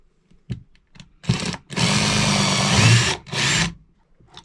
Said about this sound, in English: Drill the 4 holes for fixing that on